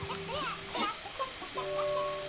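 Painted hens on a ranch in Slime Rancher, clucking in short, faint calls with a few higher squawks, over steady tonal game music.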